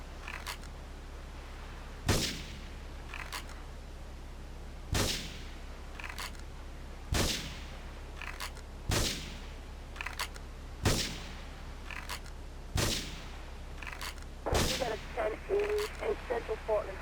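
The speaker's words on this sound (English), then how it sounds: "Investigate reports of gunfire and explosions." Sharp gunshots and blasts from GTA 3 Definitive Edition on PC, single loud reports spaced roughly every two seconds over a steady low hum, ending in a ragged burst of rapid fire.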